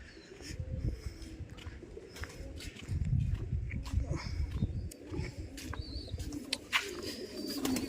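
Pigeons coo repeatedly around their coop amid a busy backdrop of chirps and rustling, moderately close and steady throughout.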